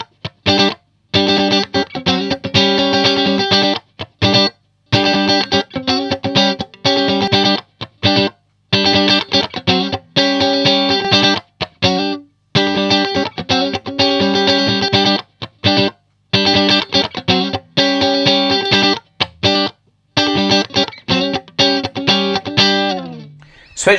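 Loud, punchy electric guitar chords and riffs run through an Xotic SP Compressor pedal with the high cut filter switched off, played in steady rhythmic bursts with short gaps for about twenty seconds, ending on a ringing chord.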